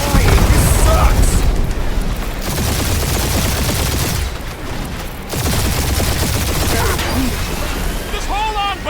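Rapid turret gunfire and heavy booms roar through a space battle in the video game Guardians of the Galaxy, a dense, loud barrage that dips briefly midway before resuming, with scattered voices and synthetic tones layered over the combat.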